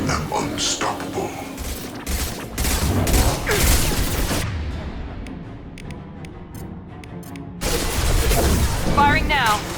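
Gunfire in Mass Effect 2 bursts repeatedly over about ten seconds amid loud combat noise and booms, dropping briefly before another heavy volley, with voices talking through the fighting.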